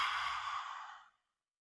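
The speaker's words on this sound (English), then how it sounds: "a big exhale through the mouth." A big, forceful breathwork exhale through a wide-open mouth with the tongue stuck out, a long airy rush like a silent roar that fades out after about a second, alone with no talk.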